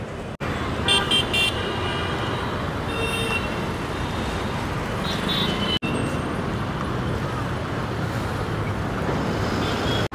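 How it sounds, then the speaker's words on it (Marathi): A bus pulls in on a busy roadside at a Hanuman temple stop near Kashimira, with a steady loud rush of traffic, engine noise and horn toots throughout. "फायनली मित्रांनो आपली गाडी आलेली आहे"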